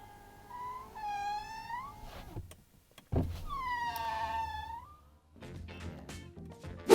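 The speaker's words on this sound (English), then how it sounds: "it makes this noise when you put the window up and down." A brand-new Ferrari Roma's power window whines and squeals as it runs, two long moaning strains with a pause between, then a few clicks and knocks near the end, close and fairly quiet.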